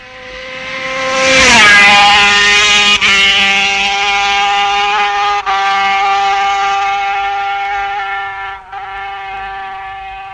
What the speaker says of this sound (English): And his Suzuki is going superbly down the terrifyingly fast drop at Bagaro